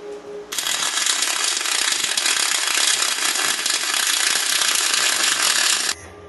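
An R-Tech Pro-MIG250-1 MIG welder laying a bead on 3mm aluminium, giving a loud, continuous crackling hiss that starts abruptly, holds steady for about five seconds, then cuts off.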